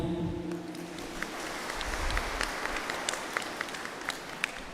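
Applause breaks out in a parish church gathering for a newly ordained deacon, a moderate, steady patter of hands heard from mid-distance with a few louder individual claps, following a brief fading voice.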